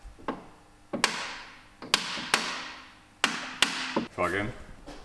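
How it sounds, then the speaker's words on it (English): A hammer hits a jammed starter motor on a Mk2 Ford Fiesta, making about seven loud, sharp metallic whacks at uneven intervals with a ringing decay after each. A voice briefly speaks near the end. "It seems like the starter motor's stuck in, so we're going to try and hammer it out."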